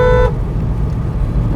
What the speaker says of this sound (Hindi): जो कि गाड़ी के हॉर्न बजाने के बावजूद भी